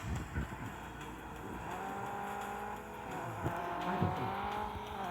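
Engines of several race cars drone and rise through shifting pitches in a racing video game, with brief tire squeal and skid near the end, a steady loud mechanical roar throughout.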